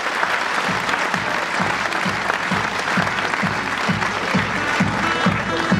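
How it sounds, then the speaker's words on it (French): Audience at the Rallye de la Côte Fleurie 2016 applauds the rally's organising committee head, a dense steady wash of clapping with rhythmic low thumps running underneath throughout. "On peut l'applaudir très très très fort."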